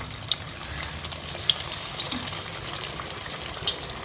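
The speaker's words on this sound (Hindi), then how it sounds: "अब हम इसमें पोटैटो बाइट्स जो हैं वो फ्राई कर लेंगे" Potato bites fry in hot oil, giving a soft, steady bubbling sizzle with small scattered pops, fairly quiet and close, with no voices.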